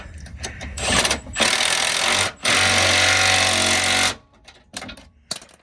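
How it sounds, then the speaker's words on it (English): Torquing down Jeep JL antirock sway bar arms with a power tool: loud close bursts of rapid hammering impact, one short and one long sustained run, then scattered clanks and taps as it stops. "we're going to go ahead and torque down the arms."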